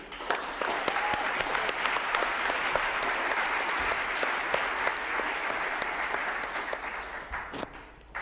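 An audience in a conference hall applauds after Professor Omaswa's closing speech on health workers, giving steady, full applause that holds for several seconds before tapering with a few sharp, isolated claps near the end.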